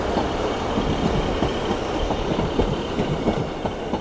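A Northern Trains class 150 diesel unit pulls into Doncaster station on a Sheffield service, producing a loud, steady rumble with rhythmic wheel clatter and faint squeal, close by and continuous, with no voices.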